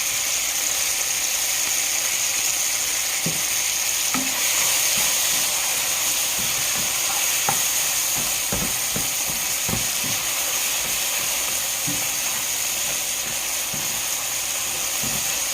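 Pork frying over high heat in a pan is stirred, with a constant bright sizzle and hiss broken by scattered scrapes and knocks of the utensil against the pan, with no talking.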